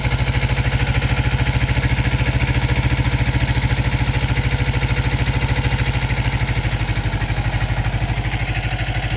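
A 1984 Yamaha Maxim 400 motorcycle engine idles slightly high with the choke released, a loud, close, even low-pitched pulsing that holds steady throughout with no talk over it.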